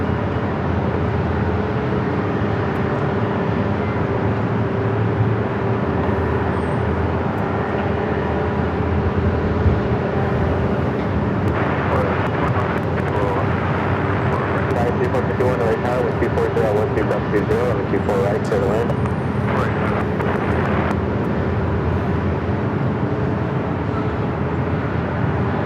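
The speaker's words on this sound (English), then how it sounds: "Our next arrival is Alaska Airlines Flight 695, coming up from Portland at 737 MAX" A low steady roar of jet engine noise from an Alaska Airlines Boeing 737 MAX 9 arriving at Los Angeles International Airport, with constant broadband rumble and a tonal hum throughout, while someone talks over it.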